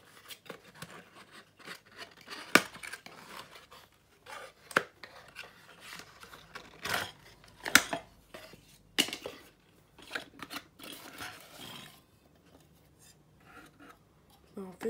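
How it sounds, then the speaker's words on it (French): Unpacking a light bulb: crinkling, rustling packaging and paper, with occasional sharp taps and scrapes, close and fairly quiet, stopping near the end. "On déballe l'ampoule."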